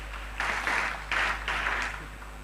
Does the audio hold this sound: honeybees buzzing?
no